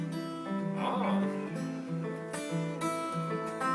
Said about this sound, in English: That's called fingerstyle guitar.